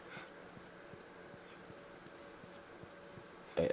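A horse in The Last of Us video game gives a steady run of hoof clip-clops at an even walking pace, moderately loud and close. A short louder burst comes at the very end.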